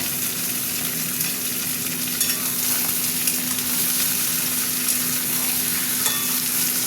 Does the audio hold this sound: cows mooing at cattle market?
no